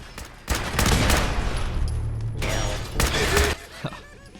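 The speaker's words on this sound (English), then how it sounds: "Let's do the grenade and suppressing fire method." Loud, close bursts of gunfire erupt in Fallout 4, two dense volleys of rapid crackling shots with a booming grenade blast, cutting off abruptly before a faint clank.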